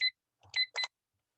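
A timer being set gives off a few short, high electronic beeps in quick succession, faint and close, with no talking.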